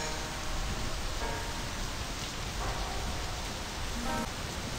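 Steady rain falls in the video game My Summer Car, a constant dense hiss of drops with faint tonal music underneath and no speech.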